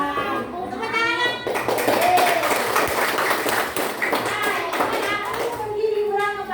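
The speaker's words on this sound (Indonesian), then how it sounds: "Tepuk tangan." Schoolchildren in a classroom clapping hands together on the teacher's cue, a burst of fairly loud group clapping in the middle with children's and a voices talking before and after.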